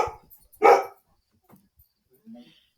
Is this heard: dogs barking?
yes